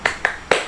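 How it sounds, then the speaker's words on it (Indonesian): A group claps a rhythmic cheer during a classroom ice-breaking activity: three sharp, close hand claps in quick succession, the last slightly louder, with no talking over them. "Tepuk semangat."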